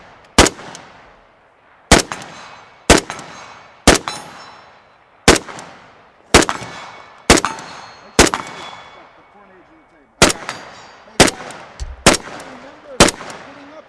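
Rifle fire from a Century Arms VSKA during a range test: a dozen or so sharp, loud single shots at uneven intervals roughly a second apart, each ringing out with a short decaying tail, with brief muffled talk in the gaps.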